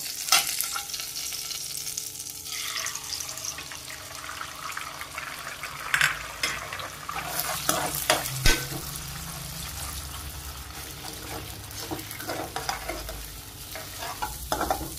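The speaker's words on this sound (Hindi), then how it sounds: "अंडे फोडलेले टाकूया" Beaten eggs poured into hot oil with red chili powder and salt, a steady frying sizzle with scraping stirs and a few sharp knocks, close and continuous for the whole stretch, with no voices.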